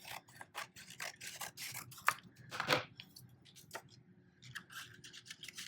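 Scissors snip through cardstock while a stencil and stamp gift project is being made, giving close, quiet, rapid cutting and rubbing strokes in short bursts with no talking.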